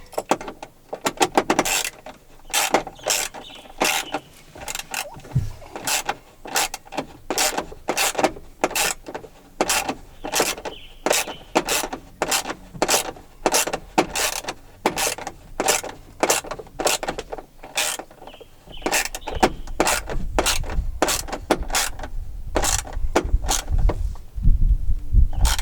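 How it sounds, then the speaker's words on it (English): A ratchet turns a long extension with a worn old socket during dash replacement on a 2006 Jeep Wrangler TJ, giving a steady run of sharp clicking pops, one per stroke, close and clear without any talking. "It's a long extension in a really old socket. That's why it kind of pops every turner"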